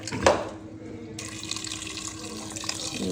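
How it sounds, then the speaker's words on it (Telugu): Water poured from a tap or jug over pieces of goat leg in a pot for paya soup, a steady splashing and trickling stream running close by without a break, no voices over it. "ముక్కలు మునిగేదాకా నీళ్ళు పోసుకోవాలి"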